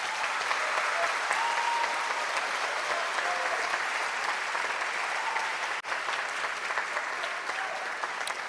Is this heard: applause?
yes